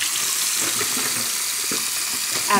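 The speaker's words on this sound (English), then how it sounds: "I always take the products that are left on the counter all week and I rinse them off really well" Running tap water pours steadily over bathroom products rinsed at a counter sink, a continuous close splashing wash with small knocks and shifts as items turn under the stream, with no talking.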